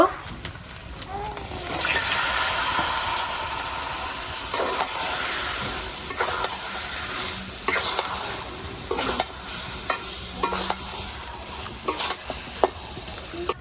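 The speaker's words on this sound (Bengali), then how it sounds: "এখন মাংসগুলা যে মাইখে রাখছিলাম মশলা দিয়ে এগুলা দিয়ে দিব।" Spice-marinated country chicken tipped into frying masala in a pan and stirred, loud sizzling and hiss with repeated scraping stirs close up, no talking.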